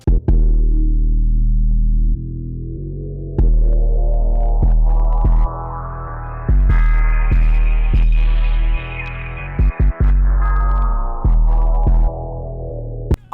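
FL Studio beat with two 808s under lo-fi filter automation, a steady run of booming bass notes and rhythmic hits with the highs slowly opening up and then closing back down, loud and upfront.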